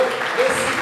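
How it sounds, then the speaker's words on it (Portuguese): Church congregation clapping during a worship service, a loud, dense burst of many hands over less than a second, with a voice speaking over it. "Essas palmas são para Ti"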